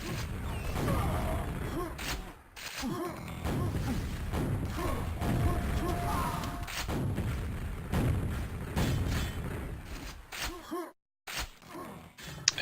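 Rocket launcher fire and explosions in a Quake match, with repeated booms and blasts scattered through dense, continuous game action, and a commentator talking over them.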